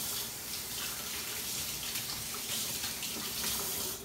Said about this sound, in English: Hold on, just going to wash my hands here real quick.